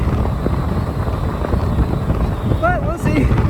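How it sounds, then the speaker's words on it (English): Strong wind gusts of around 35 mph buffet an outdoor microphone with a loud, continuous low rumble, while a person speaks over it. "it's a 35-mile-an-hour wind gust out here. Probably hear it. Really windy."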